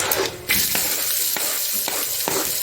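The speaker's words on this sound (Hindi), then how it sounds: "अब डालेंगे हमारे साबुत मसाले सारे, उसके साथ जाएगा हमारा प्याज।" Onions and whole spices hit a hot oiled pan for Bukhari rice, bursting into a loud close sizzle after a brief quieter moment, with a few stirring scrapes over the steady frying hiss.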